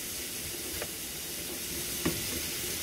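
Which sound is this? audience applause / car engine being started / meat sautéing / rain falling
meat sautéing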